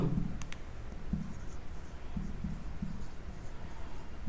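Chalk or marker writing on a board during a geometry lesson, soft scratchy strokes and light taps over a steady low room hum, close but faint.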